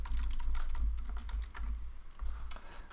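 Quick, uneven typing on a computer keyboard, soft clicking keystrokes close by with no one talking.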